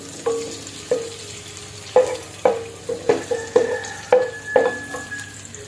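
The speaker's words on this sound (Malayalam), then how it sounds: "ഇതിനെ ഒന്ന് നമുക്ക് വറുത്തെടുക്കണം" Cashews and raisins sizzling and frying in hot oil, with repeated stirring clinks of a spoon against a pan at a steady rhythm.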